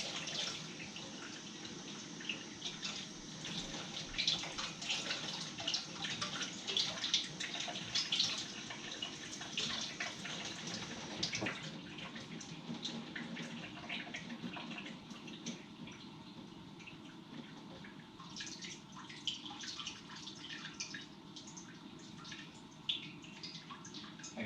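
Water trickles and splashes steadily as it is slowly poured off the top of a soil sample in a permeability test, a faint continuous pour with small drips running throughout.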